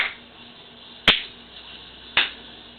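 In Kinect Star Wars gameplay, a clap gesture produces two sharp, isolated clap sounds about a second apart over a quiet background hum.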